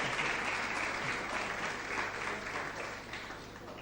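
An audience at an urban mobility and public space conference panel gives the speakers sustained applause, a dense, even wash of many hands clapping that gradually tapers slightly toward the end.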